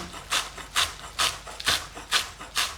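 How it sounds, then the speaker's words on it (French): Fresh chives being chopped with a knife on a board: six crisp, evenly spaced cuts land about every half second, close and fairly quiet, with no talking. "Donc là, c'est tout simple, je vais juste la hacher."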